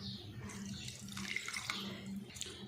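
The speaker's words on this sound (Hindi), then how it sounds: "दाल मुझे थोड़ी सी गाढ़ी लग रही है तो मैं 1 कप पानी डाल देती हूँ।" A cup of water poured into a pot of chicken dalcha with thick lentils, a soft splashing trickle under low kitchen noise, brief and fairly faint.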